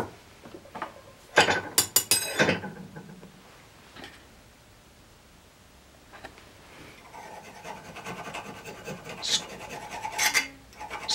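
A metal file rasps across high carbon steel in short scraping strokes: a burst of harsh rubbing, then quieter scrapes and another run of rasping near the end, close up with no speech.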